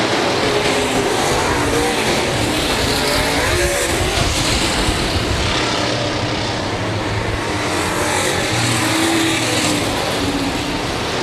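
Late model race cars roaring around the oval at Raceway Park, a dense continuous wall of engine noise from several cars at once, loud and steady with rising and falling revs as they run through the turns.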